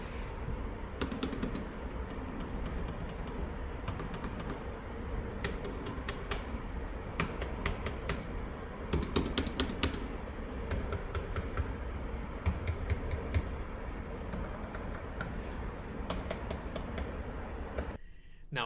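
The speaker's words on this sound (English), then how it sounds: "Let's do a couple of sound tests on the keyboard and the hinge." Typing on a Razer Blade 14 laptop keyboard, with bursts of quick, light clicking keystrokes separated by short pauses and set against a faint background hiss.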